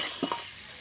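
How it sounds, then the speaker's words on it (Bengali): Potatoes sautéing in a pot for aloo dum at an outdoor picnic cookout give a steady hiss of frying, broken by a brief scrape or two of stirring, heard alone for under a second. "আলু কষা চলছে"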